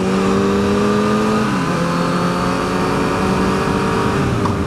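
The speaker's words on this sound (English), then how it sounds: "good sounding exhaust as well. Gotta love that four-cylinder sound." A Honda CBR1000RR Fireblade's four-cylinder exhaust sounds close and loud as a smooth, sustained engine drone, its pitch shifting and dipping during the passage with no speech over it.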